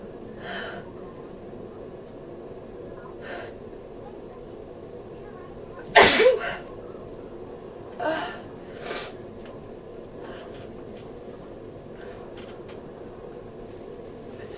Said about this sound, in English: I gotta get the sneezes out.